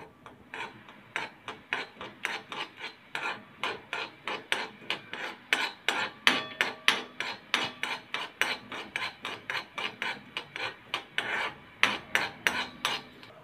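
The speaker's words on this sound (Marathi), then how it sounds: "थोडी हलकी खसखस भाजून घेऊया, जास्त भाजायची नाहीये।" Poppy seeds being lightly dry-roasted in a pan, heard as a brisk, regular rasping scrape of a spatula stirring them, repeated rhythmically about twice a second, close and clear, with no talking.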